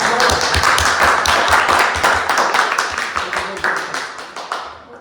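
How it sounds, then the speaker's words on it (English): An audience at a Toastmasters public speaking meeting in Cluj gives a round of applause. It begins as dense clapping and thins into scattered claps that fade out. Voices are faintly mixed in. "Again, a big round of applause for the three of you."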